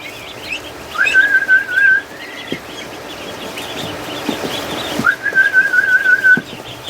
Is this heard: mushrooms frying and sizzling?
no